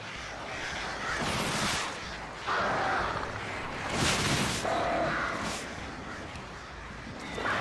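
Crows caw in the video game Alan Wake, a few harsh calls rising over a steady, noisy ambient wash with deep rumbling booms, fairly loud and dense throughout.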